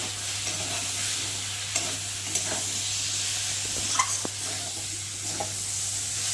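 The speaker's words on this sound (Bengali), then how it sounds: "দেবো হলুদ আর আদা বাটা, জিরে বাটা আর রসুনটা আগেই দিয়ে ভেজে নিয়েছি, দিয়ে একটু ভালো করে কষিয়ে নেব।" A paste of turmeric, ginger and cumin fries with garlic and salt in a pan, giving a steady close sizzle broken by occasional stirring scrapes and clicks.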